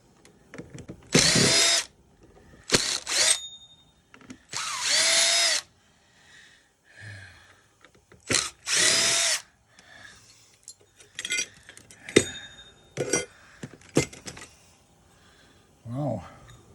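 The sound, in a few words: power drill removing screws from vintage cassette player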